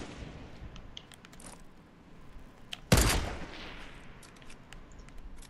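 A single sharp, loud gunshot in the Fortnite battle royale game rings out against quiet background game ambience, with a few faint clicks and rattles before it.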